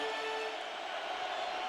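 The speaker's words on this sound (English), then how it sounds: "The crowd louder than it's been for a while." Football stadium crowd at Bowling Green versus Oklahoma, 2004, a dense continuous roar that stays steady and loud throughout with no breaks.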